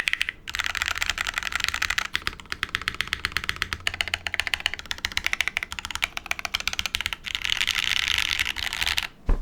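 Typing on a Calla TKL prototype mechanical keyboard, heard close up as rapid, rattling keystrokes in long bursts, with a couple of brief pauses and a final heavier clack.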